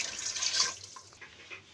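Water is poured from a mug into a pressure cooker holding washed meat for a pumpkin curry, a steady close splashing rush that fades into lighter trickles and drips.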